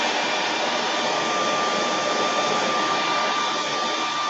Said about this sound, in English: you can speed it up with that hair dryer